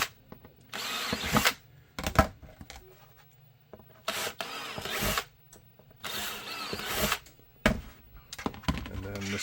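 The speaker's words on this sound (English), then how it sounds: "We're going to drill out to the middle one." Short bursts of a power drill bore holes in a holster for a Canik Rival pistol, stopping and starting repeatedly with quiet gaps and a voice speaking between runs.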